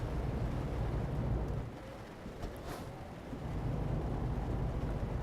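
Rain falls in the truck-driving video game Euro Truck Simulator 2, a steady hiss over a low engine rumble that briefly thins midway before resuming, with no talk.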